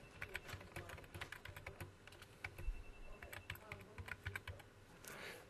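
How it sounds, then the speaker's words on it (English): Steady typing on a computer keyboard while writing a journal entry, a fast run of close, crisp key clicks with brief pauses, heard alone over a low background hum. "So I scroll down and now here's where I can start to type."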